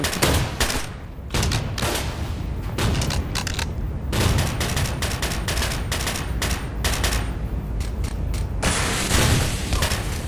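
Video game firefight with a grenade, loud rapid bursts of gunfire filling the scene, repeated sharp shots and booming blasts crowding together almost without pause.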